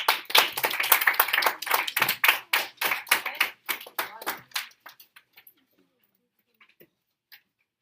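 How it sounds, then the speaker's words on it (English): Classroom applause for a student rises at once, a dense burst of clapping from a group of children that thins into scattered, separate claps over several seconds and then stops, with a few faint taps after. "Give Mario a round of applause."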